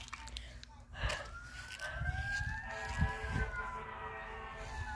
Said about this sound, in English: Ambulance calling.